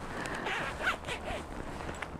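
A zip on brown leather knee-high stiletto boots is pulled up in short, scratchy, stop-start bursts, close and fairly quiet.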